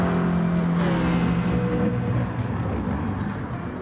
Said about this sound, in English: Second place locks up his tires coming into the chicane